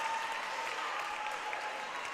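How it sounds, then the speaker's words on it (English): Steady applause from a Montreal crowd at a junior roller derby bout, a dense, even wash of clapping that carries through the whole moment without a break. "the Montreal crowd showing their appreciation for King Midas"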